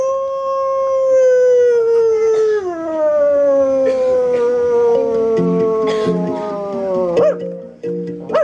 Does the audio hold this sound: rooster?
no